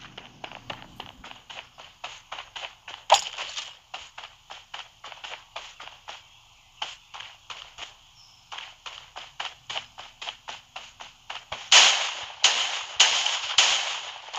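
Gunfire in the Creative Destruction shooter game, a long series of sharp, evenly spaced shots with a few louder blasts near the start and a burst of heavier booming shots toward the end, no voices.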